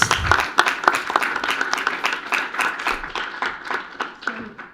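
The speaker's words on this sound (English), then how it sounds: "So we can clap at that." Scattered clapping from a small group at a Los Altos city council meeting, sharp individual claps at first merging into a brief, moderate round of applause with a voice or two underneath.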